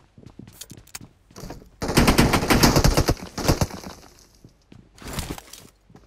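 Automatic rifle fire in PUBG Mobile during an apartment fight, with rapid loud bursts of shots, a denser volley in the middle and a final short burst, some shots mixed with breaking glass.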